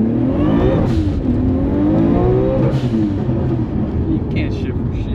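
A Nissan Skyline R32 GTR engine roars and climbs in pitch as it launches hard from a standstill, shifting and revving loudly up close, with voices underneath.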